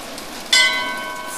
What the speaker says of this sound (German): Läuten wir mal die Glocken.